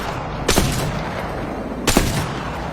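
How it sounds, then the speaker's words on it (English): Two sharp, loud Longbow rifle shots fired from the hip at close range in Apex Legends training mode, spaced over a second apart, each a punchy crack with a short tail over a low background hum. "A longbow can be really devastating up close like this"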